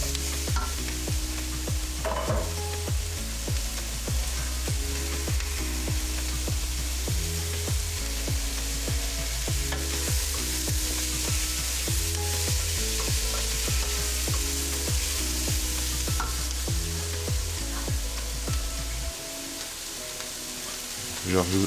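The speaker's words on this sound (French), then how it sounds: "On va mélanger et on va laisser cuire ça de nouveau 2-3 minutes." Shrimp curry with bell pepper stirred in a pan as it cooks, a steady sizzle of frying with repeated scraping and stirring strokes, loud and continuous, easing off near the end.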